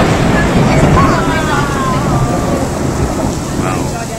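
Heavy rain pours down steadily in a loud, dense hiss during a thunderstorm outside a Target store in Medford, Oregon, with low rumbling thunder beneath; voices are faintly mixed in.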